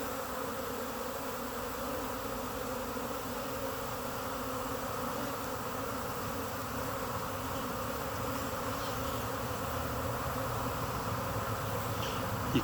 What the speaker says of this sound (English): They stick their tail up in the air and let out a pheromone and beat their wings